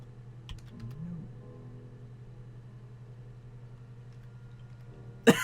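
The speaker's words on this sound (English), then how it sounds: "I can only type Y or N." Keyboard typing in the video game Her Story: a few faint key clicks early on, then a sharp, loud burst of keystrokes near the end, all over a steady low electrical hum.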